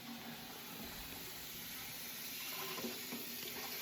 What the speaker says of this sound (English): we're just filling it up with water right now